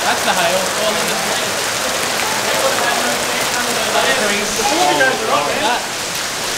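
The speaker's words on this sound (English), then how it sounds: "Has just started hailing hectic." Dense, steady patter of hail drumming on a Ford Ranger Raptor close by, with faint voices talking underneath throughout.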